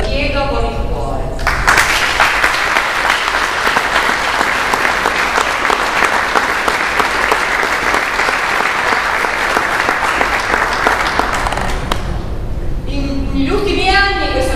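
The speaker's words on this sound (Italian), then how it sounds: "doppiamente un applauso per tutti gli artisti che hanno partecipato in questi 22 anni" Audience applause for choir artists at an outdoor music event, a loud sustained wave of clapping lasting about ten seconds, with a voice talking briefly before and after it.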